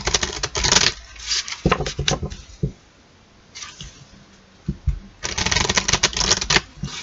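Mandala oracle cards being shuffled by hand: close, crisp bursts of riffling and slapping card edges in uneven runs, broken by a couple of quiet pauses.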